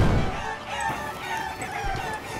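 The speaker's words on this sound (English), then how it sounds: "Running around the circle trying to get chickens off my fucking boat." Chickens cluck and squawk crowdedly on a ship in a video game, a busy layered flock of bird calls that fills the whole stretch.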